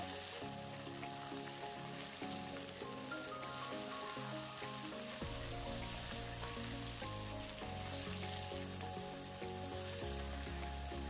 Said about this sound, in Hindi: टमाटर को मिला लिए हैं, 1 मिनट इसे इसी तरह चलाते हुए भुनेंगे।